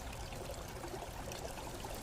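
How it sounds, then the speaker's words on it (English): Clear epoxy resin pours in a thin, steady stream into a silicone mold, a soft continuous trickle that stays close, faint and even throughout, with no voices. "Finally, pour a layer of clear epoxy resin to protect all the magic we had done."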